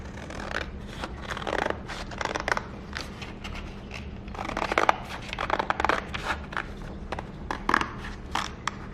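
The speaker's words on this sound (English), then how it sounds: "I'm just going to cut through all these layers of paper." Scissors cut through stacked layers of paper for a paper sloyd book cover, giving a run of close, crisp crunching snips in irregular rhythm, with no talking.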